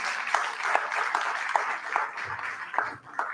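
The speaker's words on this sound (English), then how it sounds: "Please, a round of applause for her." Audience applause at an annual in-house research review and planning meeting: moderately faint, fairly sparse clapping with distinct individual claps throughout.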